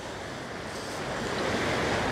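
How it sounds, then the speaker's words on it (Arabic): The Berdawni river in Zahle flows with a broad, steady rushing wash, mixed with wind buffeting the microphone, with no talk. "شايفين نهر البردوني،"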